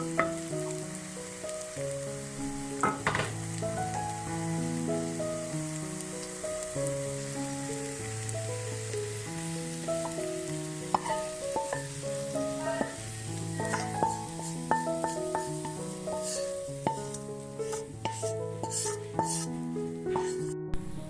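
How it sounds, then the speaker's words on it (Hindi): Onions fry in a pan with a steady crackling sizzle throughout, close up, while tonal musical notes play clearly over the top; no one speaks. "अब ये प्याज भी फ्राई हो गए हैं।"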